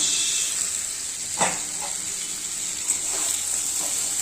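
Okra dropped into hot oil, sizzling and frying steadily at moderate volume, with a few brief clatters of stirring and no talking.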